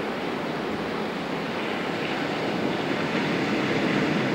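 Steady ocean waves and surf wash in a continuous, fairly loud broadband roar with little variation, no voices present.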